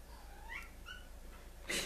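A cat gives a couple of short, quiet meows with rising and falling tones in a calm indoor room. A brief rustle follows.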